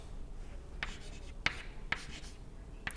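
Chalk or marker strokes on a board while writing an equation during a fluid dynamics lecture on thin film dynamics: a few short, sharp tapping scratches spaced irregularly over a quiet room hum, with no talking.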